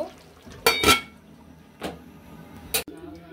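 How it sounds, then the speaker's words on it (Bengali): The lid of a chicken biryani cooking pot being lifted and handled, giving a few sharp metallic clanks and scrapes, close and distinct against a quiet kitchen background. "ঢাকনাটা তুলে নিয়েছি।"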